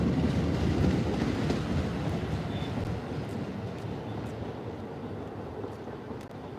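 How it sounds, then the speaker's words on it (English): A Staten Island Railway train rumbles past at Grasmere station, a steady, broad rolling roar that slowly fades, with faint wind noise and no talking. "this is the Staten Island Railway"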